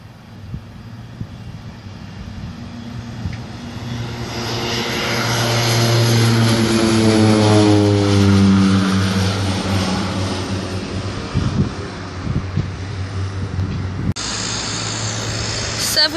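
A Winair Twin Otter propeller plane at Canefield Airport revs its engines for departure, a deep droning hum that swells loud and close midway, then settles back to a steady idle-like rumble.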